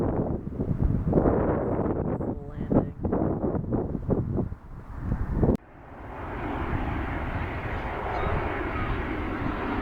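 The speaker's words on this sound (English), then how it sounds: "Gulfstream coming in here to Dulles." A Gulfstream business jet comes in to land at Dulles airport with a loud, close engine roar and rushing wind noise. The roar shifts and then settles into a steadier whine.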